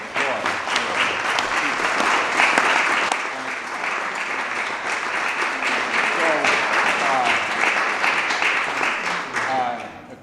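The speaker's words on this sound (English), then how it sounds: "A little applause for" An audience at a local election guide event gives sustained applause for about ten seconds, with dense, even clapping from a crowd in a hall that fades slightly at the end.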